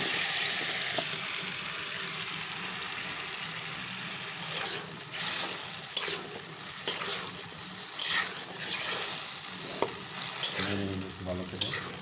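Taro (kochur mukhi) goes into a pan of fish curry and is stirred, giving a steady sizzle with repeated scraping strokes of a spoon against the pan, close up and with no talking.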